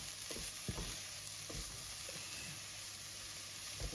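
Grated coconut frying with carrot and leeks in a pan gives a soft, continuous sizzle, broken by several scraping spatula strokes, quiet and close.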